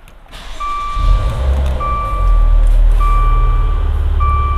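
A first-generation Maserati Ghibli 3.0 S Q4 starts up. About a second in, the engine catches and settles into a steady, loud low rumble, while a repeating electronic chime beeps over it.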